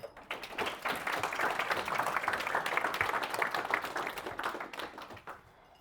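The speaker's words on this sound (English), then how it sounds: "Please give a big round of applause to our speaker from tonight." Audience applause for a speaker at a .NET Stammtisch meetup in Linz, a dense, steady patter of many hands clapping for several seconds before fading at the end.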